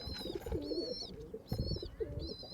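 Pigeons in a rooftop pigeon loft coo softly and repeatedly in low, rolling phrases, joined by thin high chirps, fairly close but faint, with no speech.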